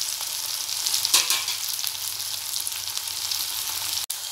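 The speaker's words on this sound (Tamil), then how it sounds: "ஒரு மீடியமில் போட்டுட்டு இதை நல்லா வதக்கி கொடுக்கணும்" Shallots sautéing in oil in a pan over medium heat, a steady close sizzle and crackle throughout with a brief stirring scrape near the start and no talking.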